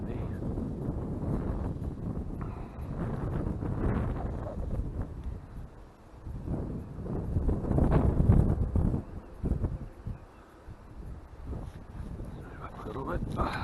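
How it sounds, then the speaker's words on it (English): Gusty wind beside a chalk stream buffeting with a low rumbling roar that swells and fades in waves. "It is quite windy, which makes it a lot more difficult."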